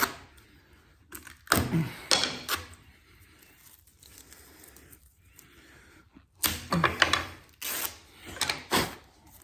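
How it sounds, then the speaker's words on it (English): Double-sided tape peeled off a Stratocaster guitar neck in two bursts of sharp tearing rips and unsticking crackles, separated by a quiet pause, close and fairly loud with no talk. "This has been all double-sided tape. I'm gonna peel this guy off here."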